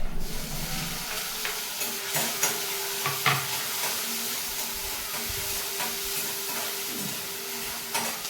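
Cumin, onion and tomato sizzle in hot oil with already cooked rice while soy rice is made, a steady broadband frying hiss broken by repeated scraping stirs of a spoon, close and with no talk.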